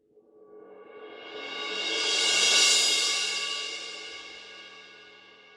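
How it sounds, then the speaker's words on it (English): Suspended cymbal rolled with a yarn mallet swells from near silence into a bright, shimmering wash that peaks midway, then gradually fades, one continuous sustained sound alone and close. "We can play just one cymbal with a yarn mallet, and we can make it a sustained sound with a roll,"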